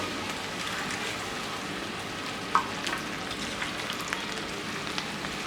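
Chicken frying in tawa chicken gravy in a pan sends up a steady, close sizzle and crackle that runs evenly throughout, with one brief sharper pop midway.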